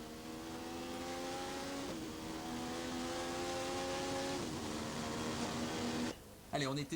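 A 1980s-era Formula 1 car, heard from onboard, accelerates hard out of bends, its high engine note rising in pitch through gears with brief drops at shifts, loud and close, before a sudden cut near the end.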